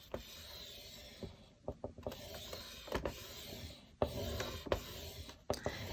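Paper is scored on a scoreboard with a tool, giving repeated short scraping strokes and clicks against the board, close and quiet with no talking over them.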